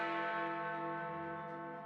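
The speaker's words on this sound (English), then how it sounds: "but this time we're only ringing one bell." The Big Ben clock tower bell sounds a single deep, resonant strike with a long, rich ringing tone that slowly fades away on its own.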